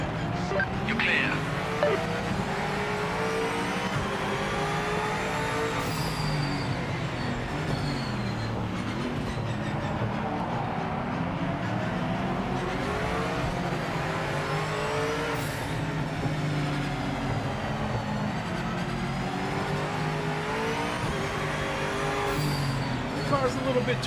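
A BMW M8 race car in the Project Motor Racing video game revs and shifts continuously, its engine note rising and falling through gears with brief tire noise, while a voice talks over it.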